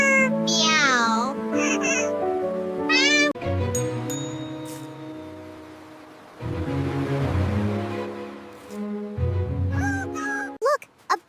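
A voice imitates a cat for an animated children's story, producing a string of drawn-out, sliding meows and a purring trill, loud and close with short pauses between calls.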